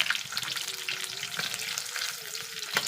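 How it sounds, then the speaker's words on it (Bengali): Jackfruit frying in a pan while being stirred, a dense continuous sizzle up close with soft scraping of the spatula throughout, no voices. "একটু নাড়াচাড়া করে নেব কাঁড়াল ভাজি হয়ে যাবে"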